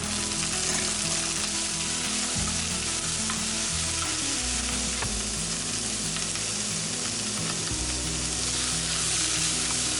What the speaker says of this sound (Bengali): শুকনো লঙ্কা আর তেজপাতা ফোড়ন যাবে